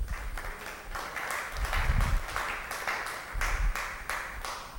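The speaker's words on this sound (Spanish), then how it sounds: "démosle un fuerte aplauso" Church congregation applauding during a Spanish-language sermon, a steady wash of clapping that swells near the middle and again toward the end, with a faint voice underneath.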